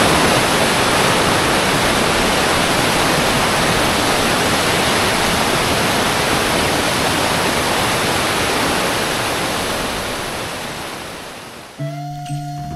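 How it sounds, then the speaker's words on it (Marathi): A stream near Dhodani Waterfall rushes loudly and steadily in a broad, unbroken roar, then fades toward the end as a brief tonal sound cuts in. "परत एकदा एक ओढा आपल्याला पुन्हा एकदा क्रॉस करायचा आहे."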